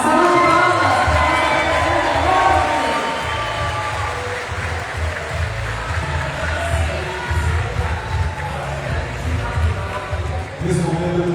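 Loud crowd applause and cheering at a political party campaign launch event, continuous clapping mixed with shouts and chatter, close and full throughout.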